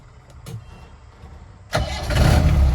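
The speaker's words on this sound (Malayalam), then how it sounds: "അപ്പോൾ നമുക്ക് ഫസ്റ്റ് തന്നെ വണ്ടി സ്റ്റാർട്ട് ചെയ്യാം" A 4x4 jeep engine is started after a few quiet clicks, catching abruptly and then settling into a loud, rough idle close by.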